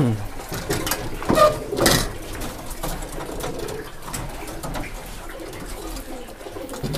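A racing pigeon being placed into a loft or cage gives a few soft coos near the start, amid handling clatter and rustling, while people talk nearby.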